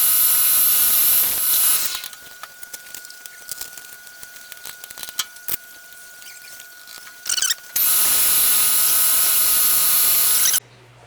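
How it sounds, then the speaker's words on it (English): A drill bit cuts on a milling machine while making a VW bus steering wheel adapter, a loud whine at the start and end with quieter clicking, ratcheting mechanical sounds in between. "I had to switch drill bits"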